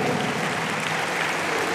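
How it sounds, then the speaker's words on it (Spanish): Short burst of audience applause at a municipal mayor's speech, dense steady clapping from a crowd, close and fairly loud throughout. "Bajo un aplauso"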